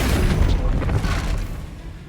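A Confringo spell explosion in a Harry Potter video game: one loud, dense booming blast with crackling debris that fades slowly over about two seconds.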